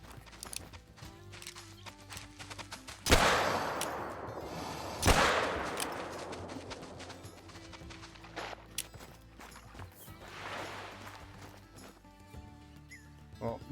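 Two loud, sharp .454 revolver shots go off a couple of seconds apart at a gator in theHunter: Call of the Wild. Both ring out over low ambient game sound, followed by fainter thuds and rustling.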